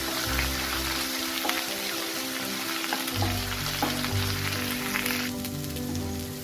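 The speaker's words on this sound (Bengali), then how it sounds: "পরিমাণ মতো হলুদ, একটু কাশ্মীরি রেড চিলি পাউডার দিয়ে মশলাটাকে খুব ভালো করে আমি কষিয়ে নেব।" Spiced masala with turmeric and Kashmiri red chili powder sizzles steadily as it fries in oil for a fish curry, a continuous close crackle with brief stirring scrapes and no talk.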